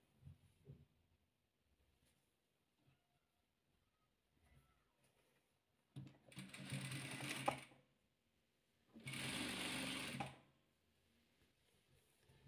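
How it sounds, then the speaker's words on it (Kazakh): A sewing machine stitches fabric pieces together for a complex 3D patchwork quilt, running in two bursts of about a second and a half each, separated by a short pause, with faint handling sounds before and after. "мына серей мен қызылымызды біріктіріп тігіп аламыз"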